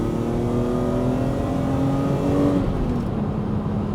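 A BMW Z4 M Roadster with an S54 engine and a swapped exhaust system revs hard and climbs in pitch, then eases off near the end, loud and close, with no voices.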